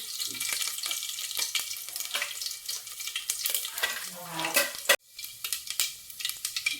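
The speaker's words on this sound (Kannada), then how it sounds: "ನೋಡಿ ಎಣ್ಣೆ ಕಾದಿದ್ದೆ ಬೆಳ್ಳುಳ್ಳಿ ಮತ್ತು ಕೊರವೆ ಹಾಕ್ಕೊತಿದ್ದೀನಿ ಹಾಗೆ ಸಾಸಿವೆ ಜೀರಿಗೆ" Garlic, mustard seeds and cumin crackle in hot oil for a tempering, a dense continuous sizzle close up with scraping stirs and pan clinks, cut off sharply for a moment before resuming.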